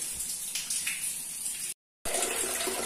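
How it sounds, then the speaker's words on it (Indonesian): Water pours steadily through a household water filter into a container as it fills, a continuous close rushing flow broken by a brief silent gap. "kita tunggu sampai airnya penuh"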